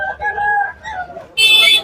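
A rooster crows loudly nearby at a rooster market, a drawn-out, wavering call followed by a sharper, higher burst at the end.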